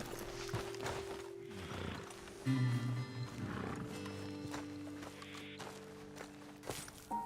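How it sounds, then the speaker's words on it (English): Horses in Red Dead Redemption 2 snort and whinny close by while hooves clop softly on the ground, with a few louder neighs standing out over quiet outdoor ambience. "Best leave the horses back a bit."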